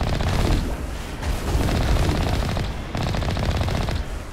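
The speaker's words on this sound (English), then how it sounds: "Who's shooting at it? Who's shooting at me?" Dense automatic gunfire in the video game Mass Effect Legendary rattles in loud, rapid sustained bursts, with brief breaks near the start and midway.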